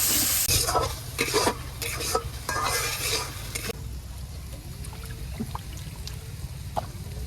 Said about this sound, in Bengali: এবার মশলা সুন্দর করে গুলিয়ে নেই